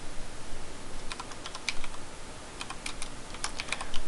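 Typing on a computer keyboard while entering a name into a text editor: quick, irregular bursts of close key clicks over a faint room hiss, with no talk.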